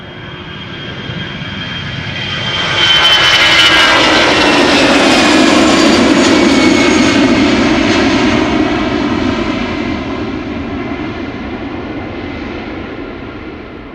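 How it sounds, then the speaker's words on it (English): EasyJet airliner taking off for Manchester, its jet engines building from a steady roar to a loud, broad peak around the middle, then slowly easing as it climbs away, with a rising whine over the rumble and no voices. "EasyJet to Manchester is taking off"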